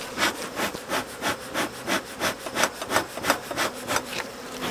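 Honey bees swarm out of an opened hive, a steady insect buzz beneath repeated rhythmic scraping or rubbing strokes at close range, fairly faint overall, with no voices.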